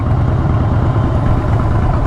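A Yamaha R6 motorcycle engine idles close by with a loud, steady, unbroken rumble.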